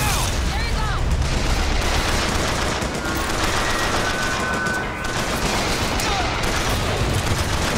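Gunshots in Bioshock Infinite come as a constant, dense stream of rapid fire and loud blasts over noisy combat. Close and relentless for the whole stretch, with some talk mixed in.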